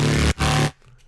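Synth bass built in Vital from a Tekken Marshall Law vocal sample for neurofunk, two loud buzzing, growling bass notes with a brief gap between them, ending in a quiet tail.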